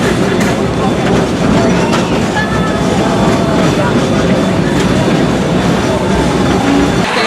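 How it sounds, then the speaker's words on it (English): A fixed-geared logging steam locomotive rumbles along at a slow steady pace, loud and close, with rhythmic clanking of wheels and a continuous mechanical drone. "Steam locomotive. It's a fixed geared engine."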